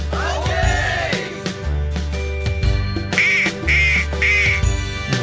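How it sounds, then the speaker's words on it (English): Cartoon-style duck quacks in a children's farm-animal lesson, several loud quacks over bright backing music, no talking. "It's a duck!"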